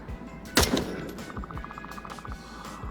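Single-fire gunshots ring out in a VR shooter on Quest 2, one loud sharp crack followed by fainter thuds, with a brief rapid electronic beeping tone underneath.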